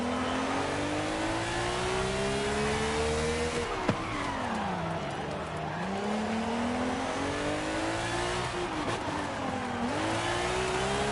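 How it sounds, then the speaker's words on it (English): McLaren Formula 1 engine revving hard, its high-pitched tone sweeping up through gears with brief drops at each shift, loud and close with no voices. "Because McLaren engines always have a growl to them."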